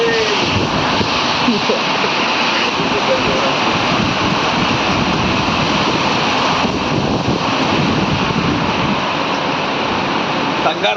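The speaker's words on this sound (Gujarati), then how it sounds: "જોઈ લો ભાઈ સાહેબ વરસાદ કેવો પડે છે" Heavy rain pours down steadily and loudly, a dense, unbroken roar of falling water that stays constant from start to finish.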